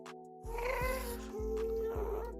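A ghast in Minecraft cries out with a cat-like wail, a short, clear meowing moan heard alone over a quiet game background, with faint low thumps beneath it.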